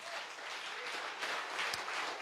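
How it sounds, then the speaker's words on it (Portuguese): A church congregation claps faintly in praise, producing a soft, continuous patter of many hands that sounds distant and holds steady for a couple of seconds. "dê um aplauso ao Senhor Jesus"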